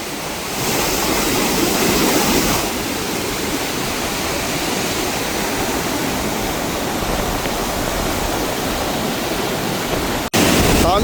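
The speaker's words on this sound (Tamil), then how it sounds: "தண்ணியை பாருங்க என்ன சத்தம்" Loud, steady roar of rushing floodwater in Jaffna after Cyclone Ditwah fills the whole stretch, a dense broadband torrent close by with no voices, cutting out briefly near the end.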